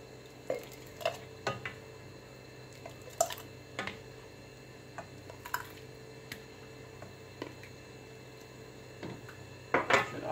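Jars of freshly boiled hot sauce are closed with lids while still hot, giving a scattered series of short glassy clinks and taps with small metal lid sounds, a quick cluster of rattling near the end, over a quiet room hum.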